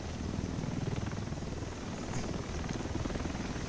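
A helicopter arrives in The Division over Manhattan, its rotor chopping in a steady loud pulsing thrum with a whining turbine layer, continuous and close, with no talk over it.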